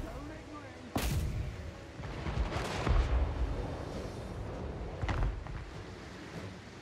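Ranged units trade fire in a Total War Warhammer 3 battle, with sharp volleys of shots at about one and five seconds over a dense, rumbling battlefield din, while a voice talks over it.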